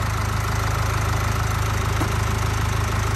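A 2023 Mercedes-Benz Sprinter van's new high-output four-cylinder twin-turbo diesel idles with the engine bay open, a steady, even low rumble with a fine rhythmic clatter, heard close and alone.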